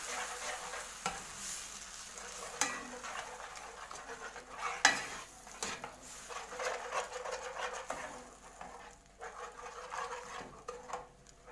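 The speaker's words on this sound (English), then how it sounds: "I will add my blended tomatoes and let them cook, simmer together." Blended tomatoes simmer and sizzle gently in a pot for pizza sauce while a spoon stirs them, scraping and bubbling in irregular close bursts with no talk.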